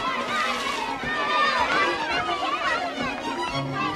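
People in a park shout and chatter together, an overlapping jumble of excited voices with some higher calls rising above the crowd noise.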